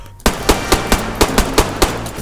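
Automatic gunfire in the zombie survival video game DayZ, about ten sharp, evenly spaced shots in a rapid loud burst, close and without talk.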